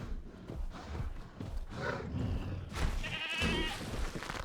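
A goat bleats in Jurassic World Evolution, with wavering calls rising over ambient park and creature sounds near the end.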